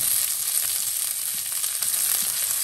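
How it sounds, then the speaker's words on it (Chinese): Colored bell pepper slices stir-fry in a wok with scallion, ginger, garlic and dried chilies in oil, giving a loud, even sizzle with faint scraping throughout. "放入佐料葱姜蒜和干辣椒，炒出香味，加入彩椒片"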